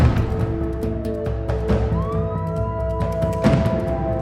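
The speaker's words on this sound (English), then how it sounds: "Sirens. Police sirens?" A police siren wails steadily, rising and falling, with a few sharp knocks and clicks in the foreground.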